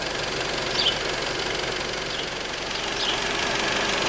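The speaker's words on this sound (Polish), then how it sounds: "A teraz posłuchajmy silnika w trybie komfortowym, czyli możliwie najniższe obroty i najcichsza praca." Low, steady idle of a 2016 SEAT Leon CUPRA 290 ST estate with a 2.0-litre turbo inline-four and stock exhaust, held in comfort mode, an even continuous hum with no revving or talk.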